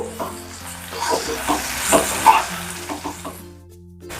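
Turmeric, red chilli powder and salt are stirred into a frying mixture in a pan. A steady sizzle runs throughout, with scraping spoon strokes coming and going close by and no talking.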